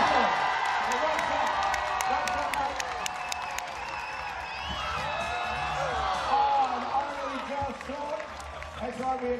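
Arena crowd at a Nelson Giants versus Hawkes Bay Hawks NZNBL basketball game cheering, clapping and whooping for several seconds, a loud sustained roar with sharp claps and shouts running through it.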